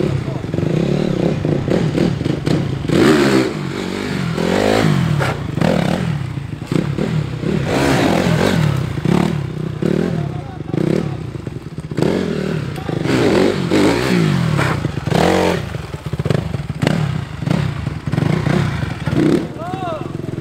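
A motorcycle ridden for stunts in an open area in Barzanò, Lecco, revs repeatedly in rising and falling bursts at close range, with clattering and scraping in between and people talking over it.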